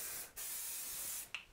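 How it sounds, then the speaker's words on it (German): Plant leaves of a banana and a fern, infested with mealybugs, are misted from below with a spray bottle: a long hissing burst followed by a second short spritz, close up and with no talking. "dann sprühen wir einmal von unten ein die Blätter"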